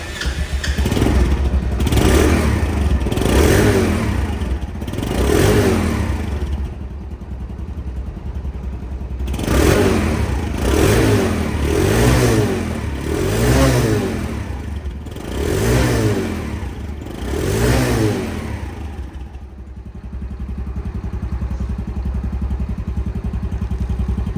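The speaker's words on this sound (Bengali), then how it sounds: "সাউন্ড কোয়ালিটি শুনলে বুঝতে পারবেন এই বাইকটির ইঞ্জিন কোয়ালিটি কেমন আছে" A Kite Plus scooter engine idles and is revved repeatedly, nearby and loud, with rising and falling surges in several bursts before settling back to idle.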